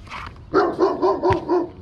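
A big German Shepherd dog barks four times in a steady rhythm, loud and close, after a brief fainter yip at the start; no one speaks.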